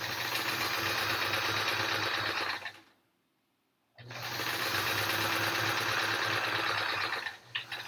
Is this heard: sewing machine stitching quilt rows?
yes